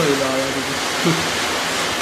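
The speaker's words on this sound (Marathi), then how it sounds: "पाऊस" Rain falls steadily outdoors as a continuous soft hiss, with faint voices briefly underneath.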